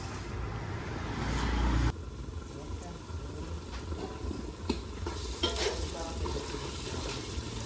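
Onions fry and are stirred in a pan, with a steady sizzle and scraping that drops in level after the first couple of seconds, while voices talk faintly in the background.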